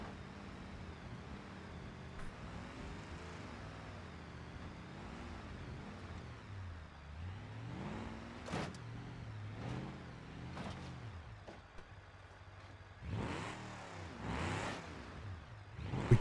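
Car engine in the BeamNG.Drive driving game, a steady low drone with shifting pitch as the vehicle is driven carefully, rising in a few brief revving swells near the end.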